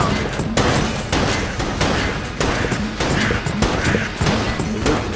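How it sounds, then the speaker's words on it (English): A t-shirt cannon in Enter the Gungeon fires over and over, loud blunt thumping shots at a steady rhythm mixed with crashing impacts and busy game noise. "Is the t-shirt cannon really the gun we're using though?"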